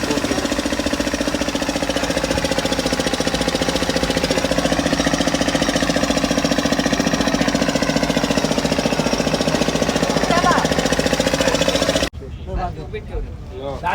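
Machinery loading ice at a fishing jetty makes a loud, continuous, rattling, engine-like clatter that stops abruptly near the end, leaving quieter ambient sound.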